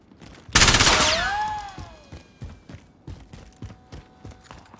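A loud burst of rapid gunfire in a military shooter video game opens sharply and decays over about a second and a half, followed by a string of quieter, evenly spaced shots and thuds.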